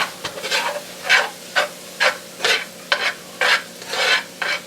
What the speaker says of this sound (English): going in with a tablespoon of flour. We're going to mix that in.